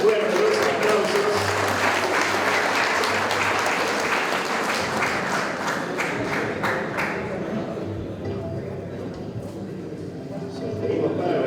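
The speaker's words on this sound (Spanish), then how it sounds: "Fuerte los aplausos." Applause at a graduation ceremony for motorcycle and vehicle mechanics students, a loud sustained crowd clapping that thins slightly midway, with voices talking through it.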